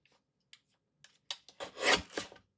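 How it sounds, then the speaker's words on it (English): A small paper trimmer slides its blade across card stock, a few faint ticks followed by a close, rasping scrape that swells briefly and then trails off, with no talking. "So I'm going to grab my little baby trimmer."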